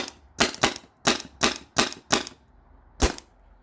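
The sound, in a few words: Tippmann TiPX paintball pistol firing rapidly on CO2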